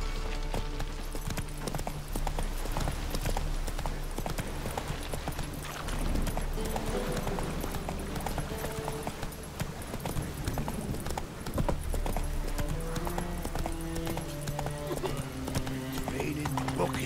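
Roach, a horse in the video game Witcher 3, gallops with steady clip-clop hoofbeats and an occasional whinny, mixed under a continuous musical game score with some voice.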